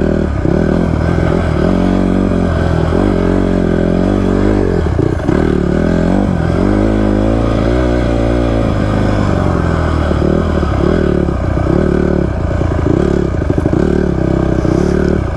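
A Honda CRF150R dirt bike revs hard on a desert ride, its engine snapping up and down in loud, close bursts with clattering and scraping over rough ground throughout, no voices.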